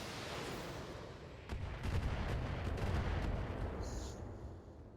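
Long-range missiles launching in a mech combat game, a dense burst of rumbling, crackling fire that swells midway and fades out, fairly loud with no voices.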